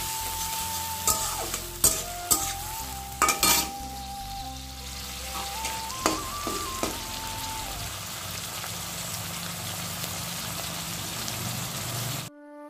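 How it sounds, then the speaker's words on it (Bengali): Fish frying in a pan makes a steady close sizzle throughout, with a few sharp clatters and scrapes of a utensil early on, and no one talking. "চলো মাছগুলো ভাজি"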